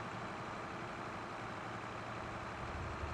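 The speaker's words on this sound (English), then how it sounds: "But man, do I love the sound of this tractor." Base game Massey Ferguson tractor engine running in a farming video game, a steady low diesel rumble droning evenly throughout with no pauses.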